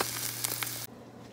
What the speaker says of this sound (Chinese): 然后再煎一个蛋